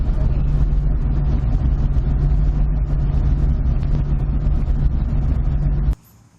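A Lamborghini Countach replica kit car with a new exhaust and original catalytic converter roars steadily and loudly under hard acceleration, then cuts off abruptly near the end.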